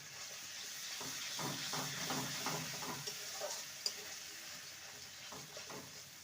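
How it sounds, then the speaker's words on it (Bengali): Cumin and coriander powder frying in oil in a pan, a steady soft sizzle with scattered small ticks and crackles, fairly quiet and close, with no talking. "সামান্য জিরে গুঁড়ো ধনে গুঁড়ো হাফ স্পুনের মতো ভালো করে কষিয়ে নেবো"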